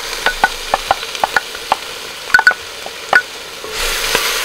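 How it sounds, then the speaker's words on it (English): Sautéed peppers, celery and onion stirred in a heavy-bottomed pot: a series of light, clear taps and scrapes of a utensil against the pot, ending in a soft sizzle. "Give everything a stir."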